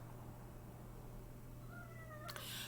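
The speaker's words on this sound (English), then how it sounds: "my cat is meowing." A cat meows once late on, a faint rising and falling call over a steady low hum, followed by a brief sharp rustle.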